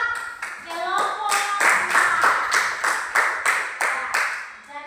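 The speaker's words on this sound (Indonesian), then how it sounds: "Tepuk tangan buat kelompok." A group claps together in steady, fairly loud rhythmic applause for a team, with a few children's voices mixed in at the start.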